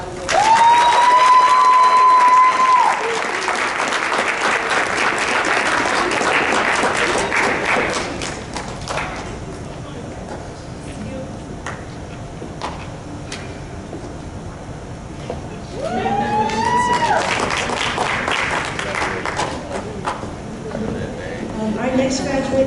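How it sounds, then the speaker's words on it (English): A graduation ceremony audience claps, a dense round of applause that swells at the start, thins and tapers through the middle, then briefly builds again near the end, with scattered cheers in the hall. "Let's all congratulate Anne Marie with a nice round of applause."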